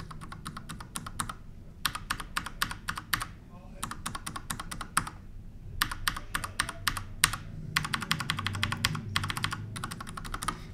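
Rapid clacky keystrokes from an Akko 5108 full-size mechanical keyboard, typed in quick bursts with short pauses between, fairly close and moderately loud.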